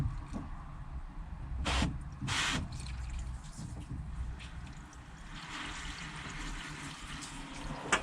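Water from a hose patters and splashes onto a Vauxhall Corsa C as it is sprayed to find leaks into the wet passenger-side carpets. The hiss is steady and moderately quiet, with a couple of louder bursts of spray early on.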